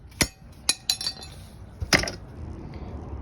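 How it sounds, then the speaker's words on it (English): A hammer knocks at a Honda Civic seat bracket, producing three quick metallic clinks, a short pause, then two more ringing hits and a faint shuffle after, close and fairly quiet with no one talking. "and then just hammer it"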